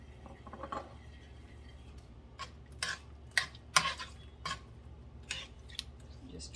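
A spoon scrapes and clicks against a bowl in irregular strokes as pork is mixed with dark soy sauce, with soft kitchen background noise.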